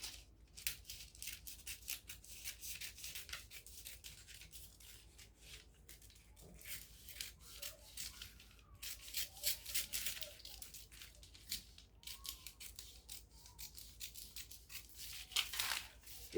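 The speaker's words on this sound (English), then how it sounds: "Then from this point, I'm going to be cutting off this area." Scissors cutting ankara fabric for a gown, a string of close, crisp snipping and rustling strokes in irregular bursts with short pauses between, fairly quiet and with no talking.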